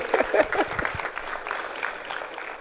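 An audience at a youth leadership training forum claps warmly for a young speaker: a dense, steady patter of hands that stays fairly even for a few seconds, with a hint of voices mixed in at the start.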